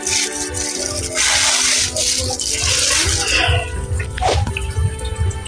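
Running tap water splashes steadily over fish being washed in a home kitchen sink, with dripping and handling noises close by throughout.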